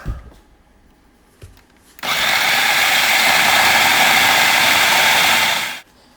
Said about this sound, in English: put it all into a food processor and give it a whiz